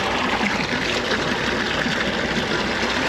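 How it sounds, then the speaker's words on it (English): Freshwater spring in the Taurus Mountains, water pouring and trickling in a steady, close, full-bodied rush with no pauses. "Freshwater spring."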